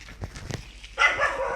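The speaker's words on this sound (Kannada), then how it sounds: "ಓ ನಾಯಿ ಕಟ್ಟಿ ಹಾಕಿದ್ದಲ್ಲ?" A dog barks twice in short, close bursts, followed by a louder rustling, scraping noise.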